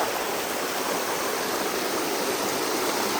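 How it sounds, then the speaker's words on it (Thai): A strong mountain stream rushes steadily nearby, a dense, continuous roar of flowing water with no pauses and no voices over it. "น้ำไหลแรงมากสวยมาก"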